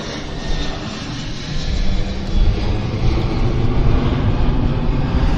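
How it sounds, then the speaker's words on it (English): Air Canada A321 jet turning onto the active runway at Vancouver airport, a steady engine roar that swells slightly louder partway through and holds at a constant rumble. "This is Air Canada Flight 100 now, right on the turning onto the active. It's an A321 heading out to Toronto."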